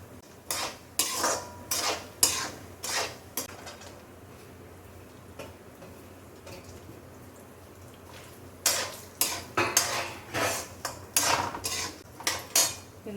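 Dry fruits and figs dry-roasting in a pan for a Janmashtami laddu, with a utensil scraping and clinking against the pan in bursts, a quiet stretch in the middle, then a faster run of stirring knocks near the end.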